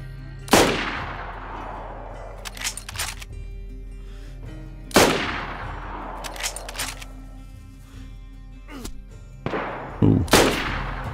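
Gunfire in DayZ, a survival shooter, during a fight with hostile bandits: three loud, sharp single shots several seconds apart, each ringing out with a long echoing tail, separated by fainter clicks and movement, with a voice faintly underneath.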